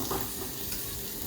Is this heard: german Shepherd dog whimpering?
no